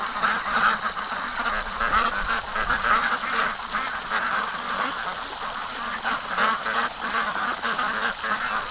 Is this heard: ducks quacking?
yes